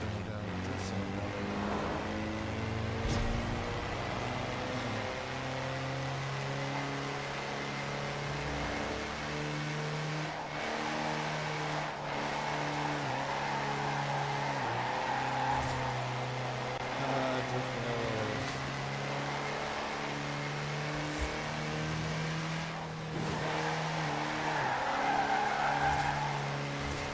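A car in the racing video game Forza Horizon 4 revs steadily through a drift, its engine a loud, continuous droning tone that rises and falls for the whole stretch.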